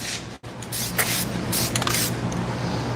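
A steady hiss of spray paint on a 1968 Dodge Charger runs continuously with a short break near the start, loud and close, with faint background rumble.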